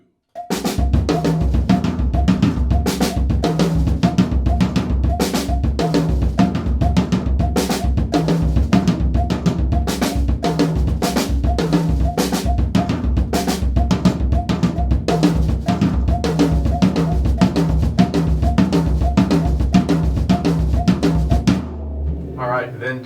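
Drum toms play a left foot clave pattern as a steady, evenly spaced run of resonant hits lasting over twenty seconds, loud and close, before stopping abruptly near the end.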